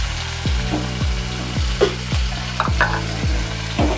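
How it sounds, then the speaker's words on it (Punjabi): Tomatoes, chopped green chilies and browned onions fry in a pan on a gas stove at medium-low heat. A spoon strikes the pan in a steady, repeated rhythm over a continuous sizzle, with no talking. "ਟਮਾਟਰ ਨੂੰ ਆਪਾਂ ਨਰਮ ਹੋਣ ਤੱਕ ਭੁੰਨਾਂਗੇ, ਚੰਗੀ ਤਰ੍ਹਾਂ ਮੈਸ਼ ਹੋ ਜੂਗੇ।"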